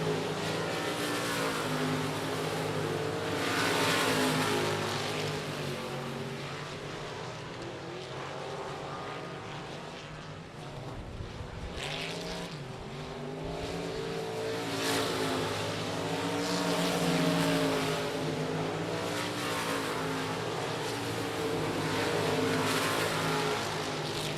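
Race cars circle I-37 Speedway under green during a regular race program, engines roaring steadily at close range for the whole stretch, with rising and falling pitch as cars pass and rumble through the turns.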